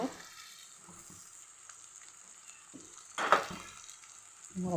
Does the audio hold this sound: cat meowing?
no